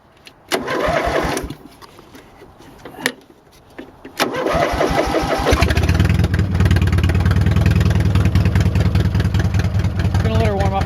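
A dirt bike engine sputters through a few start attempts, then catches and settles into a loud, steady, close idle as it warms up.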